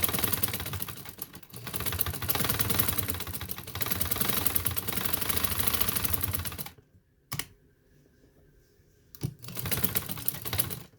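A sewing machine stitching a blouse neck runs fast and close in long rattling bursts, falls silent briefly near the end with a single short blip, then starts up again. No one talks.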